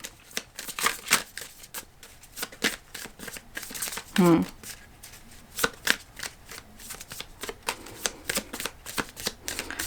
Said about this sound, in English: I'm going to pull one last card from the Apothecary deck.